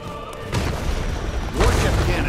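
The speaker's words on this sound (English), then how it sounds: "Warship cannons! These Avia jerks do not play fair!" Warship cannons fire in the Granblue Fantasy Relink video game, heavy booming blasts landing in quick succession with rumbling low-end impacts amid loud game noise.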